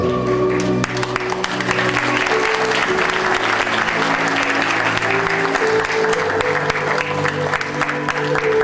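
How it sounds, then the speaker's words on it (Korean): Sustained, loud audience applause fills a university architecture department's 40th anniversary ceremony, a dense steady roar of many hands clapping without pause. "자, 다시 한번 힘찬 박수 부탁드리겠습니다"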